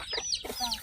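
A chicken clucks a few quick, close, moderately loud notes in a short burst, with no talk over it.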